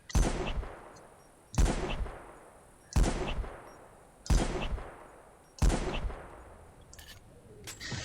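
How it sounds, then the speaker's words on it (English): Five loud, evenly spaced single shots from a modded sniper rifle in Halo 3 Forge, each a sharp crack with a ringing decaying tail, about one and a half seconds apart, with no talk. "It has the same amount of zoom, but listen to the firing noise."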